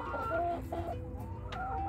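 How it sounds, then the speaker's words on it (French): Laying hens cluck and murmur continuously inside a mobile henhouse converted from an old livestock trailer and holding 170 birds, with overlapping close calls over a dense flock background. "bienvenue à notre poulailler mobile qui accueille aujourd'hui 170 poules pondeuses"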